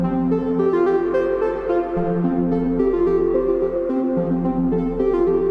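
Modular synthesizer notes smeared by long reverb into one sustained F major chord, a dense steady wash of tones with slight swells, loud and continuous without talk.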